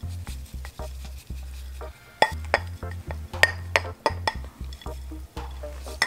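A plant pot clinking and scraping during cactus repotting: a series of sharp ceramic taps and knocks at irregular intervals over a low steady hum, close by and without speech.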